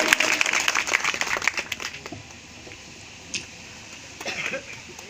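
Applause from an audience at a community foundation meeting in Kadi, clapping briskly at first and then thinning into scattered claps, with a few later bursts over a quieter hall.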